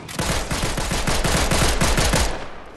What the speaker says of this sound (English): I'm being shot from the bar